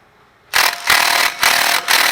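An electric impact gun loosens the front brake bracket bolts on a 2007 GMC Sierra 2WD pickup, starting suddenly and running loud in three or four close hammering bursts with brief dips between them.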